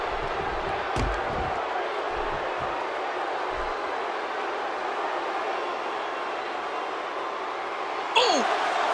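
A large indoor arena crowd roars in a constant wash of noise during a WWE 2K16 wrestling match, with a few thuds early on and a sharp squeak near the end.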